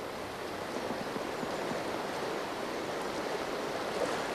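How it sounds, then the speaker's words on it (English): A river's current flows downstream past a paddling boat, a steady, even rush of moving water filling the clip with no voices. "The river current does the hard work."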